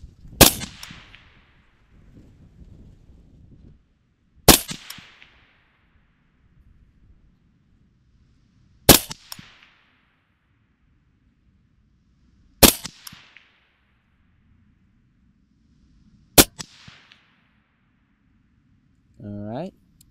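Five loud, sharp AR rifle shots firing 5.56 77-grain ammunition at an outdoor range, spaced about four seconds apart, each with a short ringing tail over quiet wind. A brief voice follows at the end.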